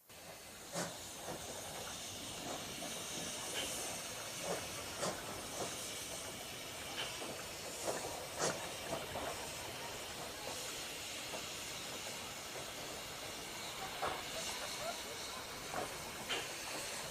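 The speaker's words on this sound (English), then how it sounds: "The J27 makes its way to the coaling stage" J27 steam locomotive moving toward the coaling stage at a heritage railway yard near Grosmont, with a steady broad hiss of steam throughout, scattered clanks and knocks, and faint rail noise from a moderate distance.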